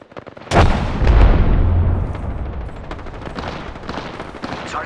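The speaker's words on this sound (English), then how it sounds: "Fire in the hole! Tossing a grenade." A grenade blast in a team deathmatch shooter game: a loud, sudden boom with a heavy low rumble that swells for about a second, then decays into a lingering roar of debris and distant gunfire.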